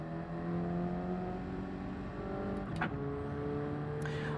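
A race car in Gran Turismo 7 drones steadily while a downshift to third and an upshift to fourth come through as sharp jumps in engine pitch under steady power.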